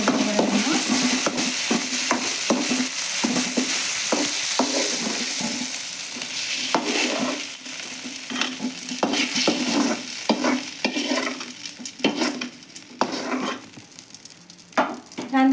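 Mint chutney ingredients fry in hot oil in a pan, a steady sizzle broken by repeated scrapes and knocks of stirring, close and fairly loud throughout.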